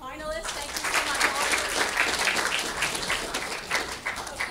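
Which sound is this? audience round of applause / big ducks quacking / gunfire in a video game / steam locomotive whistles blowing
audience round of applause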